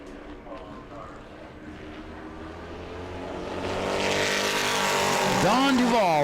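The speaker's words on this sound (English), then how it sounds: "Nick Neary in the 51 truck will finish up his run here" Number 51 race truck from New Smyrna World Series qualifying, engine roar building steadily and louder with a rising, shifting whine near the end as the lap finishes, an announcer talking over it.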